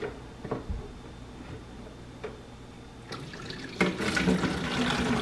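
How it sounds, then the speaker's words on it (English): Hot raspberry herbal tea poured through a filter into a container, heard as a faint, close trickle and splash that starts sparse and then builds into a steadier flow toward the end. "I'm gonna pour some of the tea liquid in there."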